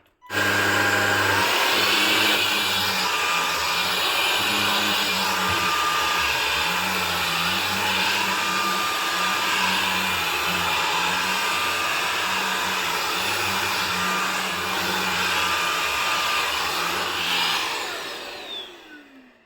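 A Leresar V7 cordless vacuum cleaner runs in turbo mode, a steady loud motor whine with airy hiss that holds for most of the stretch before tapering off near the end, with no talking.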